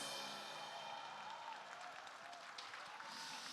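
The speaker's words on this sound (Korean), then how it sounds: "On behalf of all our church members, let's give them a round of applause." Church members at a world missions conference give missionaries a steady, dense round of applause, heard faint and distant without any talking.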